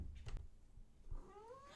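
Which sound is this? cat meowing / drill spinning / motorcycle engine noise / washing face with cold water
cat meowing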